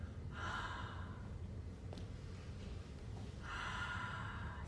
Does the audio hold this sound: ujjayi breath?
yes